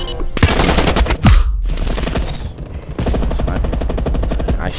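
Rapid automatic gunfire from Call of Duty: Cold War multiplayer in a dirty bomb mode, dense bursts of machine-gun shots with a short pause midway, loud and close throughout.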